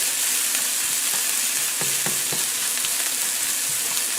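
A chopped onion sautéing in a pan, a steady close sizzle and crackle with a few brief stirring scrapes, no talk.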